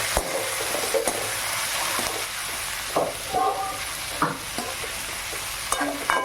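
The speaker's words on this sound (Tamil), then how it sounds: "கொத்தமல்லி நல்லா ஆட் பண்ணிட்டு நல்லா அதையும் வணக்கி விடுங்க." Coriander leaves are stirred into crab masala sizzling in a pan, a close, steady frying hiss punctuated by scraping and clattering of a spoon against the metal.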